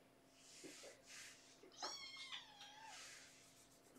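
A pet cat meows indoors, a few short mews followed by a longer, rising and falling cry in the middle, fairly close and without talk.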